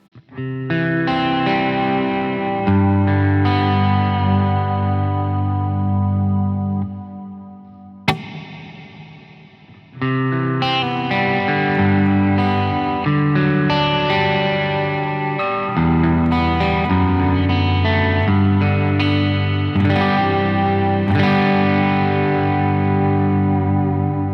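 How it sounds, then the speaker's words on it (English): A distorted electric guitar, run through a Roland SRV rack reverb unit, plays sustained chords and riffs drenched in reverb and chorus, with a brief pause and a sharp click near the middle. "SRV, which is a rack reverb unit that Roland released a long time ago"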